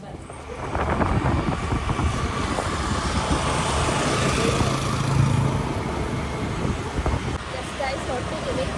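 Engine and road rumble of a vehicle while riding, a steady low roar with wind buffeting close to the microphone, and a voice talking over it.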